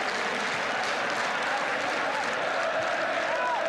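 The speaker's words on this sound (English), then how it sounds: "Chelsea newly motivated now by Osgood's goal and by the crowd" Crowd at a Chelsea versus Manchester United football match, 1972–73 season, roaring and applauding in a steady, dense wash of noise that fills the stadium, with a commentator talking faintly beneath it.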